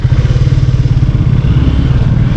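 Off-road motorcycles, including a Hero XPulse, a Dominar and a Tramp, idling and riding near Maldevta, Dehradun; a loud, close engine putter with a steady pulsing beat, no talk.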